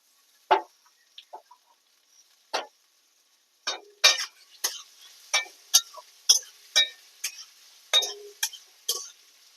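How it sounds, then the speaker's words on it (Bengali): Potatoes and ginger stirred in a frying pan, a series of short scraping, clattering strokes that start sparse and become a quick irregular run, close and fairly loud with silence between. "আদা দিয়ে হালকা নেড়ে নিলাম।"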